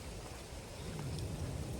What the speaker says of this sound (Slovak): tu vidíš, že tu prší